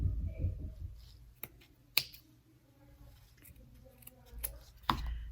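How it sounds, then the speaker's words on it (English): Scissors snipping through looped yarn to trim a craft tassel, a few sharp crisp cuts spaced irregularly against a quiet background. "I'll come back through with my scissors and just slip into those loops and trim those up"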